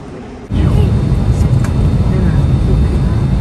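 An airliner at a Las Vegas airport boarding gate for a Seattle-bound flight gives off a loud, steady engine roar that starts abruptly and then holds an even, continuous hum.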